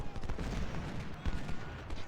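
Dense musket volleys crackle in a Civil War battle of Ultimate General at Prairie Grove, a continuous busy rattle of overlapping shots with a few heavier thumps, moderately loud throughout.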